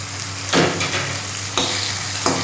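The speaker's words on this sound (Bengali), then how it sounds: "এইবার আমি 5 ফোড়ন আর শুকনো লঙ্কাটা দেব, এতে দিয়ে দিলাম।" Panch phoron and dried red chillies hit hot oil in a pan, giving a steady close frying sizzle with three brief bursts of louder crackle and stirring spread across the short stretch, no voices.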